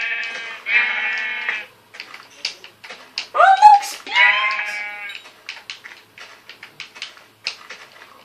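Repeated sheep bleats in Minecraft, bright and close, with a higher-pitched cry mixed in and quiet clicky sounds between them.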